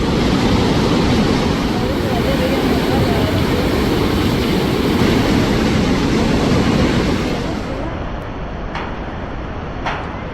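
Iguazu Falls, a huge system of cascades, roars as a steady, loud broadband rush of falling water heard from the upper trail, continuous throughout and easing slightly near the end.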